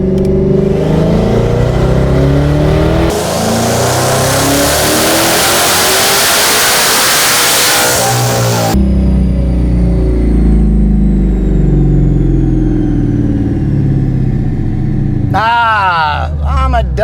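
Twin-turbo Hellion-boosted S650 Mustang engine on 93 octane making a full-throttle pull, loud and continuous as it climbs through revs, then cutting off abruptly at the speed limiter and settling into a lower drone before a brief rising burst near the end.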